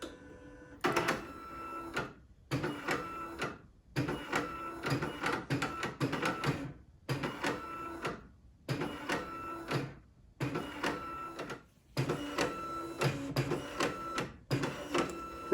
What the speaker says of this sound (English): This is a Canon BJ-130e. It was Canon's first bubble jet printer.